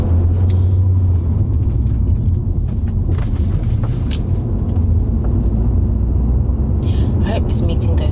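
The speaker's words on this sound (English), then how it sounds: "There's so much traffic." A car moving through heavy traffic gives a constant low road rumble and engine drone with passing vehicle noise and a few clicks, while a person talks over it.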